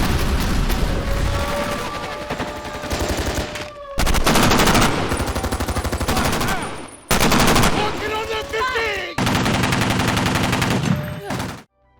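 Loud, dense bursts of automatic gunfire and explosions in a military action film scene at a remote outpost in Syria, coming in several long volleys separated by brief gaps.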